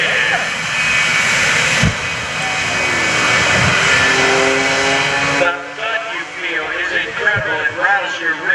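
A jet-powered school bus roars loudly at the 2014 Greenwood Lake Airshow, a sustained, heavy jet-engine blast that cuts off abruptly and gives way to quieter crowd and engine noise, with speech in the background.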